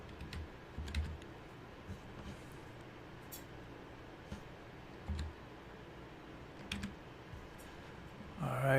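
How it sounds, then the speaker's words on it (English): Quiet typing on a computer keyboard, with soft scattered key clicks and brief bursts of taps, heard close and faint against a low room hiss and no talk. "Let me just type this in."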